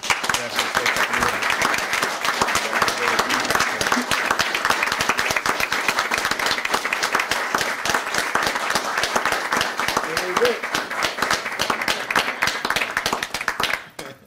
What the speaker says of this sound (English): if you guys would join me in a round of applause and say thank you